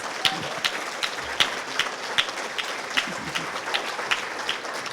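Applause from a luncheon lecture audience, a steady patter of clapping with sharper individual claps standing out, moderately distant and fairly quiet, continuing evenly throughout.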